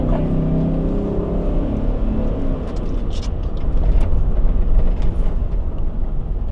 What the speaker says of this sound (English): So we're gonna go fast and then we're gonna brake.